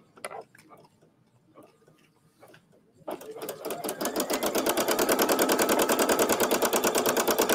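A computerized embroidery machine stitches a design. Its rapid, regular needle clatter starts after about three seconds, follows a few quieter clicks, and grows louder and steadier as it runs.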